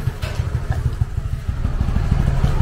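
A motorcycle engine putters steadily in a narrow alley, loud and close, with a continuous low rhythmic throb and some clatter.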